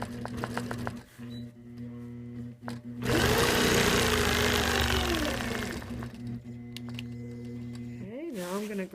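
A domestic sewing machine runs in a long steady whirring burst while stitching quilting lines on a ribbon-woven star quilt, close and fairly loud, with short starts and stops around it and a person talking at the start and end.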